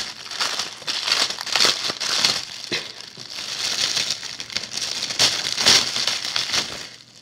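The packaging of a waffle mould is pulled open, making loud, close crinkling and crumpling that runs continuously with sharper crackling bursts throughout.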